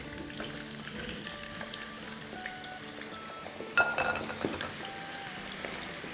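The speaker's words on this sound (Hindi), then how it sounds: "तो इसको अब हम फ्राई कर लेंगे।" Thin-sliced potatoes fry in oil in a pan over medium-high flame, a soft steady sizzle with a sharp metallic clink of utensils against the pan partway through, followed by brief stirring scrapes.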